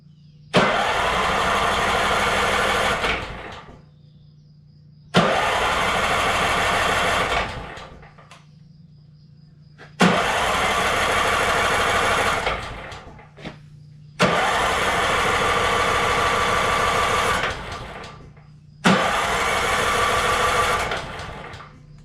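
Manco Dingo go-kart engine on a new battery cranking in five long starter bursts of about three seconds each, separated by short pauses with a low hum, loud and close, with no voices.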